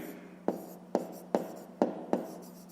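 Handwriting during a fifth-grade math exercise: five sharp, evenly spaced scratching strokes about half a second apart, close and fairly quiet, with no voices.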